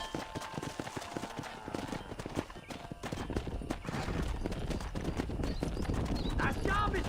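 Horse hooves clip-clopping at a fast gallop in the western video game Red Dead Redemption, with a neigh and a voice speaking over the steady rapid rhythm, cattle-herding ambience underneath.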